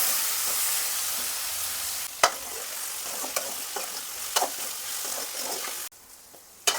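Tomatoes tossed into browned onions in a pan for a coconut milk chicken gravy, a loud hissing sizzle up front, then scattered stirring scrapes and taps over a steadier fry before it cuts out near the end.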